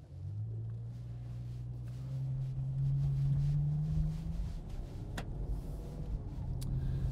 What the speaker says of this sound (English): let's just go from sport to comfort on the Manettino, hit auto mode, and just see how it cruises